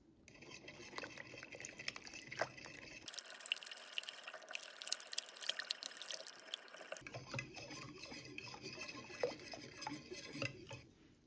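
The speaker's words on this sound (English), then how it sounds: "Now mix until combined." Sourdough starter is mixed into warm water in a bowl, producing close, continuous scraping and sloshing stirring sounds with small clinks from the utensil against the bowl.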